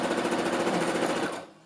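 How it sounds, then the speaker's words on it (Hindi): Sewing machine stitching the sleeve of a baby frock, a rapid even mechanical chatter running steadily up close before stopping abruptly. "ऊपर मोड़ के और सिलाई लगाएंगे बाह के ऊपर"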